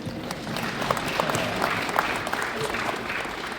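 A convention audience at Twin Cities Con breaks into steady applause, a dense patter of many hands clapping at moderate distance throughout.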